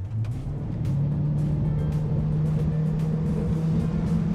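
Marian M800 full electric yacht surging forward under acceleration, a steady low motor hum with rising pitch and a constant rush of water and hull noise, close and continuous with no talking.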